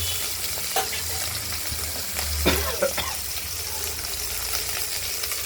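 Oil sizzles and spits steadily as tengra fish full of roe fry in a pan, with occasional clatters and soft pops, close by.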